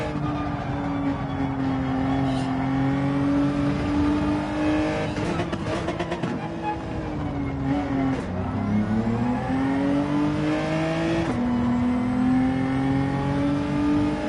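Race car engine at full throttle in a racing game at Autopolis, a sustained high whine that climbs steadily, dips through brief gear shifts and climbs again, loud and close.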